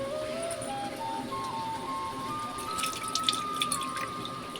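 Water poured into a pot of chicken curry, a faint continuous trickling stream in a home kitchen with a thin rising tone as the pour goes on.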